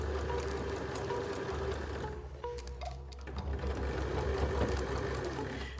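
Sewing machine stitching around the edge of a homemade fabric face mask, a continuous motor hum and rapid needle chatter that briefly dips near the middle before running steadily again, close and fairly quiet, with no talking.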